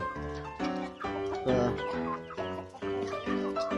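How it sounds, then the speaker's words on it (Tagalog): Chickens clucking in short, repeated bursts inside a farm coop, fairly close, with overlapping calls from several birds. "Yan yung mga manok natin"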